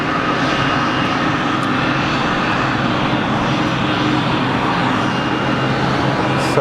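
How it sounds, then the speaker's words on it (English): A fixed-wing airplane taxiing at Geneva Airport with only one of its two engines running, a steady loud engine drone holding constant throughout with no other sounds over it. "So it's only got one motor running."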